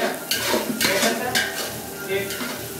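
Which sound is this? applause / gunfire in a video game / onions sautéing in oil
onions sautéing in oil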